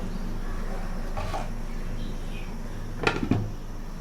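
A lid goes onto a pot of chicken curry with new potatoes: a soft rattle, then a quick pair of metallic clinks near the end over a quiet low hum.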